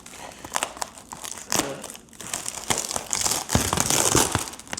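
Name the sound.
cutting open paper print packaging along the side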